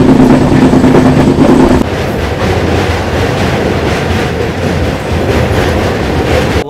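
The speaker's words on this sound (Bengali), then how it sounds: "আমার ট্রেন ঢুকছে" The Tamralipta Express rolls into Digha station with a loud, steady rumble and rhythmic wheel clatter close by, continuous throughout with no voices.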